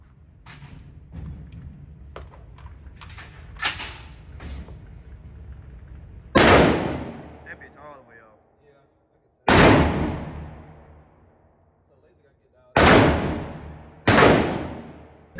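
Four loud, sharp gunshots ring out at an outdoor gun range, each with a lingering decaying echo and spaced several seconds apart, after quieter handling sounds and brief talk among shooters.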